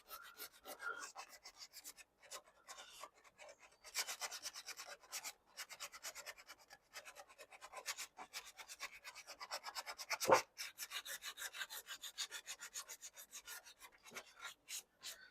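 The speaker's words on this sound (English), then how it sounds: "I'm using 60 grit sandpaper instead to really scuff it good" Aluminum is hand sanded with coarse 60 grit sandpaper in steady, rhythmic back-and-forth rasping strokes, close and continuous with brief pauses, one sharper knock near the middle, and no voices.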